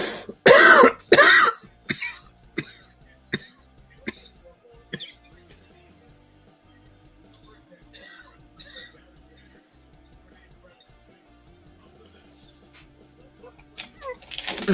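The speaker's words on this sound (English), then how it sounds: "Sorry for the coughing and stuff," A person coughs several times in a sharp cluster, followed by scattered single coughs and throat-clearing, near and loud against a quiet room.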